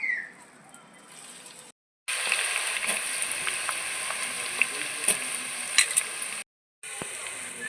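Chopped onions hit hot oil in a pot while a mutton and raw mango curry is being cooked. After a short gap, a steady, fairly loud broadband sizzle starts and runs continuously, with a few small crackles on top.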